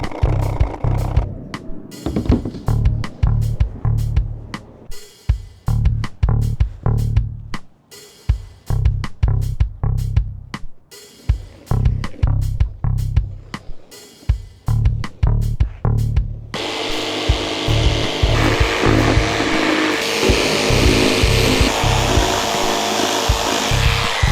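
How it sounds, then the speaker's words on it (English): Hand sanding of a faceplate for a DIY LED logo: quick, rhythmic scraping strokes in close bursts, then shifting into a steadier, denser rasping rub for the final stretch, with no talking. "I recorded an hour's worth of sanding this faceplate"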